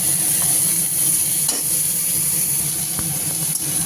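Ginger garlic paste frying with onions in a pan, a steady close sizzle with faint stirring clicks throughout and no voices.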